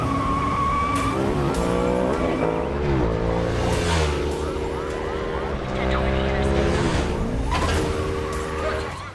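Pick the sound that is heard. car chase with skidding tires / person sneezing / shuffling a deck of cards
car chase with skidding tires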